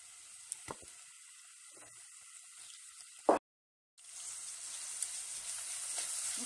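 A large chopped onion frying in vegetable oil in a pan, giving a soft, steady sizzle with a few small pops and a brief break in the sound.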